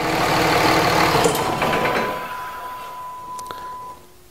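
A Dodge Cummins 5.9L diesel truck engine runs with a loud low rumble that settles and quiets, followed by a steady thin tone and a brief clunk near the end.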